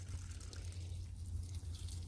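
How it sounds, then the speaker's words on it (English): A watering can pours onto garden squash plants, a soft, steady trickle of water close by, quiet and continuous over a low background hum. "Watering the squash."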